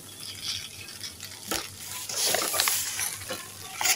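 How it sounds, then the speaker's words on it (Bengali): Okra frying with a little salt in a pan while being stirred continuously, giving a steady hissing sizzle with scraping and stirring sounds that rise toward the end, close up and with no one speaking. "সামান্য কিছু লবণ দিয়ে আমি এভাবে ভেজে নেব কিছুক্ষণ।"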